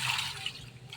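A mango rinsed in water at home, a brief wet swishing and dripping splash, close and moderately loud, with no talking.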